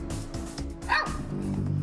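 A Shih Tzu, rescued from severely matted fur, barks and yips a few times over a steady background hum, with one brief higher yelp near the middle.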